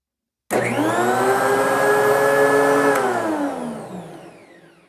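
A Dewalt DW735 planer with a shop vac hooked up starts abruptly, whining and roaring loudly and steadily at close range for a few seconds, then spins down as the tone sags and fades.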